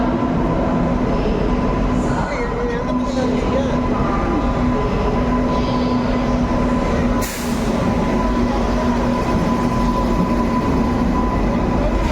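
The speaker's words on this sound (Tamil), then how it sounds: "ட்ரெயின் வருது இதுதான் சொல்கிறாங்க" A goods train rumbles steadily with broad, continuous noise and a low hum, with a brief hiss partway through, like a train pulling into a station close by.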